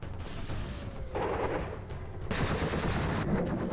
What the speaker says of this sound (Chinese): 射击！